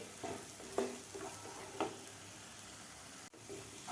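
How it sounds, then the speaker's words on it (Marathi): Dry spices sauté in a masala for a soya wadi curry, producing a soft, quiet sizzle with a few light stirring scrapes and taps close by. "मसाले घातल्यानंतरसुद्धा आपल्याला एक मिनिटभर हे मसाले परतून घ्यायचे आहेत"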